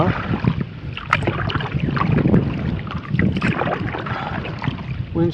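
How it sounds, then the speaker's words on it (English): Wind picks up out of the west over a Boundary Waters lake during a solo canoe trip, buffeting close and gusty with irregular knocks and splashes from the canoe. "Wind's picking up out of the west."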